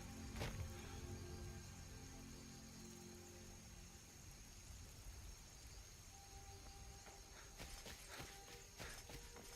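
Horse hooves clip-clop in the video game Skyrim, a faint, steady walking rhythm of hoof falls over a quiet ambient background with no one talking.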